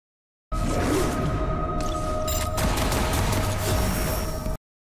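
Gunfire from a video game trailer: dense bursts of shots and booms with whooshing sweeps, loud and continuous, no voices.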